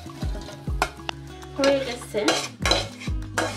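Fried onion is stirred in a pan with ginger and garlic powder: a utensil scrapes and clinks against the metal in a quick repeated rhythm over a light sizzle, with a brief voice.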